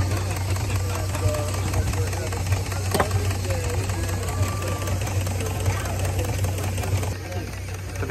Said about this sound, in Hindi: तो यहाँ पे जितने भी आप देख रहे हैं सब भाप से चल रहे हैं इंजन.